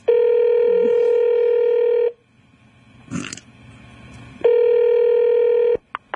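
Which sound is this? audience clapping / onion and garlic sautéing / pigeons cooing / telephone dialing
telephone dialing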